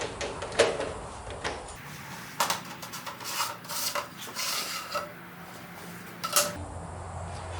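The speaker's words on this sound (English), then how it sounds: "to remove this cover, we're just going to pop off this end cap here" Plastic scraping and rubbing as the end cap of an LED shop light is worked loose, with a few sharper clicks and snaps close by and no talking.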